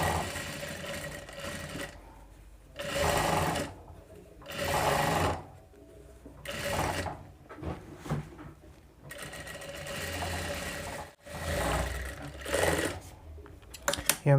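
A sewing machine stitches a boat neck blouse in repeated loud runs of rapid mechanical whirring, each lasting a second or two and separated by short pauses.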